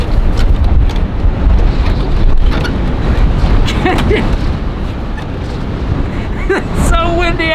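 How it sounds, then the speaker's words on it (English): Strong wind buffeting outside an Airstream trailer, a constant loud roar with rumbling gusts and microphone buffeting, a short voice fragment near the end. "It's so windy out here."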